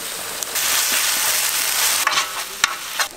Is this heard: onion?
yes